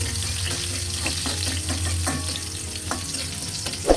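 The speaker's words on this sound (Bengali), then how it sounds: "রসুনগুলো আমরা হালকা ব্রাউন করে ভেজে নেব" Chopped garlic fries in cooking oil with a close, continuous crackling sizzle, joined by a few light stirring scrapes and one brief louder spatter at the end, with no voices.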